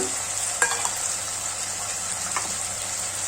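Cumin seeds sizzle in hot oil in a pan alongside potato, tomato and green chili for khichdi, a steady close frying hiss with a couple of light stirring clicks and no talking.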